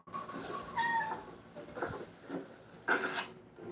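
A domestic cat meows several times, drawn-out and wavering cries coming from close by, with a brief pause between calls.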